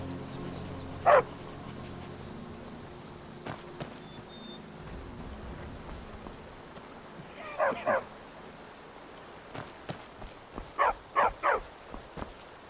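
Dog in Skyrim lets out a single sharp bark, then a few yips a few seconds later and a closing run of quick, close barks, with quiet gaps between them.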